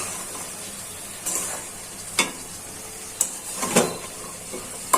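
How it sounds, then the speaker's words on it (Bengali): Potato and eggplant being sautéed in spice masala for a tangra fish curry, a low steady sizzle with a few sharp scraping stirs and clinks, close up. "সাথে দিয়ে দিচ্ছি আলু আর বেগুন। এগুলা ভালো করে কষিয়ে নেব।"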